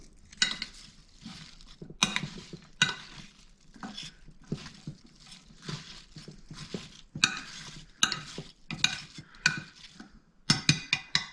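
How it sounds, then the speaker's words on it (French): Peeled mango and other fruit for a fruit salad being stirred in a bowl, with repeated scraping and wet clinking strokes in an irregular rhythm, close and moderately loud, no talking. "pareil, je vais remuer mes fruits"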